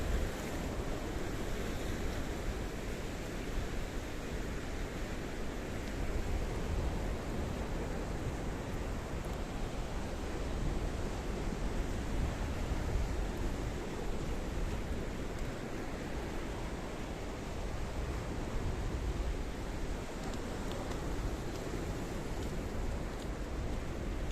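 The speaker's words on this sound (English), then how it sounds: "Quite windy today, Mr. Paul." Steady, blustery wind roaring across the open Kissonerga sea front near Paphos, Cyprus, with a continuous broadband rush and faint surf underneath, no voices.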